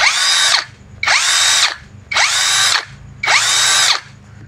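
An MLHY 21V brushless cordless drill runs free in four separate bursts of about a second each, a high whirring whine spinning up and cutting off with short pauses between, loud and close.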